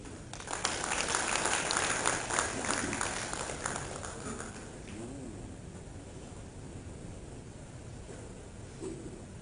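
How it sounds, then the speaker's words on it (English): At an interreligious council assembly in Uganda, the audience gives the President a round of hand claps. The applause is loud and dense at first, then gradually thins and fades into quieter room noise. "Another hand clap for President."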